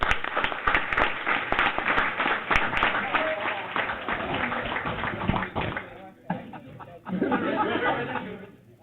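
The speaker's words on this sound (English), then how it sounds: "So let's give them a round of applause, please." An audience at a board room meeting applauds the Manor Schoolhouse Foundation for donated gift certificates; steady clapping with chuckles and chatter, fading near the end before voices and a short burst of renewed clapping.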